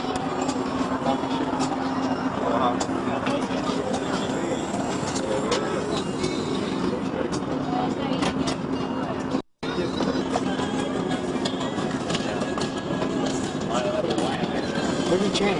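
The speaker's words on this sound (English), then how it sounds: "Where's the train? I think it's a train. Monorail." A Seattle monorail train near the Space Needle passes with a steady, moderately loud rumble and whir that holds for the whole stretch, with people talking in the background.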